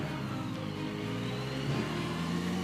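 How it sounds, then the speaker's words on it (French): Car engine droning low and steady as a vehicle passes on a quiet country road across the Causse Méjean plateau, moderately close and alone with no talking. "On va laisser passer la voiture."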